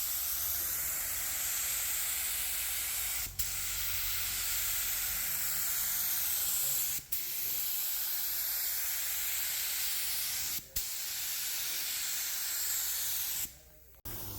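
Spray gun paint hissing as coats go onto the fuel tank of a 1946 Chevy truck, a steady loud spray broken by three short pauses and a final burst near the end.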